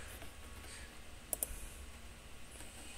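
A computer mouse gives two quick close clicks in a row over a steady low room hiss, with no voice.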